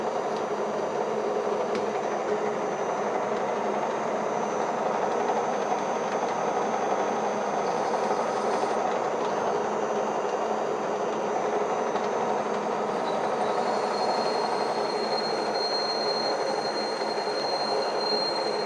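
Hub grinding machine running at 320, a loud continuous rumbling roar with a high whining squeal riding on top, steady throughout with no talking.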